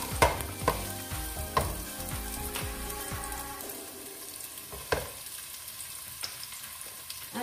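Onion and ginger sautéing in a hot pan for chicken tinola, a busy sizzle broken by clanks and scrapes of stirring early on, then settling to a softer, steady fry with occasional taps.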